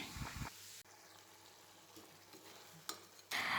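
Prawn roast gravy cooks in an open pan. Brief, loud scraping stirs come at the start and end, with a very faint, quiet simmer in between.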